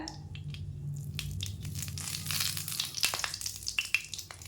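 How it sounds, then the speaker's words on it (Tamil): A bay leaf dropped into hot butter and oil sizzles and crackles quietly in a pan, steady frying with sharper pops and crackles building toward the end. "பட்டரும் எண்ணெயும் காஞ்சதும் ஒரு பிரியாணி இலை போட்டுக்கிறேன்"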